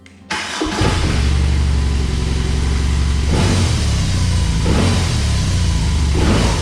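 A first-edition BMW R18 motorcycle engine fires up after a brief click of the starter, then runs with a deep, steady, loud rumble close by, with a few gentle blips of the throttle.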